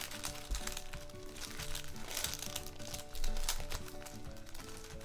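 A paper sewing pattern is folded and creased by hand, giving a run of close, soft crinkles and crisp rustles with a few sharper crackles, fairly quiet and without speech.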